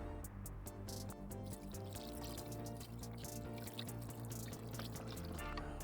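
Bone broth poured into a pot of chili verde, a quiet continuous trickle and splash of liquid filling the pot, with no talk.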